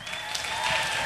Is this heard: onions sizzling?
no